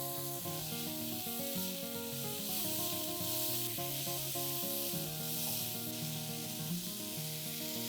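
Mushrooms frying in a pan over a high flame, a steady close sizzle that holds evenly throughout with no pauses and no talking.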